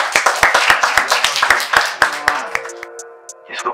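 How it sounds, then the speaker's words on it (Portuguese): A small crowd claps at a rap battle, a string of sharp, close, uneven hand claps that thins out as a voice or tone takes over near the end. "Palmas pro WM aí, família!"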